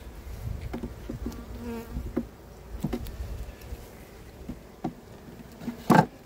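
A low, steady hum of honeybees buzzing together in a hive, with occasional individual bees droning closer and a brief louder buzz near the end.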